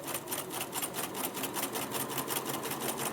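A sewing machine stitches a bias strip around a sleeve cap at a steady, rapid rhythmic clatter, close and moderately quiet, with no voices.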